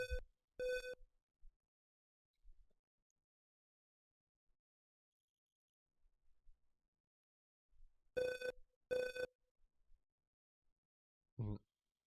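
A telephone in the 1987 video game Maniac Mansion rings in two double bursts of bright electronic trilling, separated by quiet dialing clicks, ending with a short lower tone.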